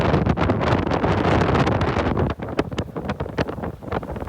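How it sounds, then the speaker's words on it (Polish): Strong gusty wind on a cloudy beach at Jervis Bay buffets the microphone loudly and continuously, easing into choppier, uneven gusts near the end. "Chmury straszne i wieje bardzo."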